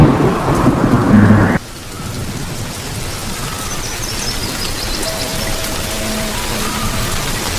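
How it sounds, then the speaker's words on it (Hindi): Rain drops falling on dry grass on the Serengeti plains as a steady, soft patter, beginning with a brief louder rush before settling into an even hiss of rain with faint distant bird calls. "सूखी घास पर पानी की बूंदें पड़नी शुरू हो गई हैं"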